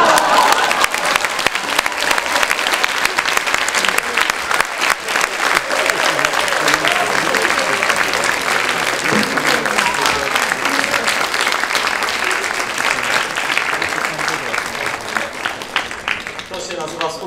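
An improv show audience applauds in a long, dense, loud burst of clapping that holds steady throughout.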